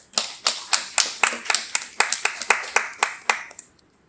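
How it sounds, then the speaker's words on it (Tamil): An audience at a Tamil Diwali debate event claps in a steady rhythm, about fourteen crisp, even beats that fade out at the end. "ஒரு உற்சாகமான கைத்தட்டல்."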